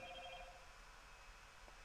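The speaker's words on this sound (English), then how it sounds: "I don't know why my phone just went off," A mobile phone goes off with a short, faint electronic tone pattern at the very start, then fades into quiet room noise.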